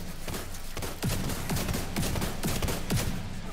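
Automatic and burst gunfire in the video game The Division 2, rapid crackling shots with several sharper reports standing out over a dense, continuous firefight.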